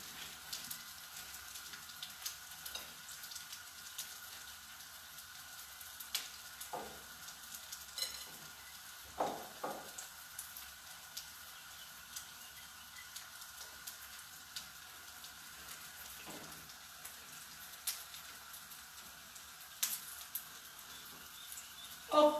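Zucchini balls crackle and sizzle steadily in hot oil in a Sicilian home kitchen, a dense, even frying hiss with scattered louder pops throughout.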